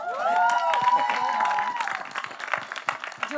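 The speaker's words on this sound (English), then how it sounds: "can we have all the journalists out there clap for this journalist turned producer?" Journalists in the audience clap for a journalist turned producer at a music launch event: steady applause mixed with crowd murmur and overlapping voices, with a sustained tonal sound in the first half.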